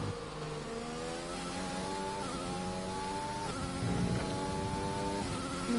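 A Formula 1 car engine in the F1 2020 video game revs steadily, pitch climbing and dropping through gear changes, with a continuous high whine and no voices.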